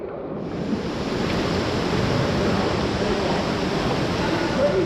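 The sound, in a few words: waves in an indoor waterpark wave pool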